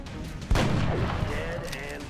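A strike rifle fires in XCOM Long War: one sharp, loud shot with a booming tail that decays over the following second and a half, over a low game background.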